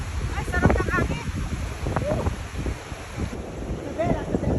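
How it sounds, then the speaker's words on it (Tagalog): Wind rushes and buffets against the microphone along a roadside in San Nicholas, Pangasinan, a steady rumbling roar with voices talking faintly underneath. "Ay, sarap ng hangin."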